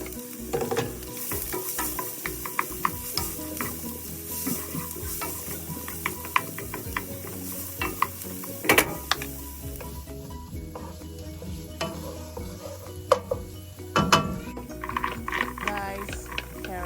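Diced onion sizzles and fries in a pan while being stirred, a steady crackling hiss with scraping stir strokes throughout, under intermittent talk.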